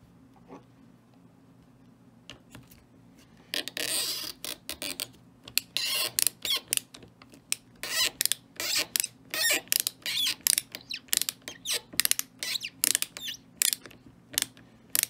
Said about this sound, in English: Something in here makes these screws squeal like that.